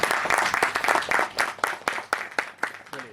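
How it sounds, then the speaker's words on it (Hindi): Loud applause from an event crowd honouring a guest, with dense, sustained clapping and sharp individual claps cutting through, steady for several seconds. "जोरदार तालियों के साथ।"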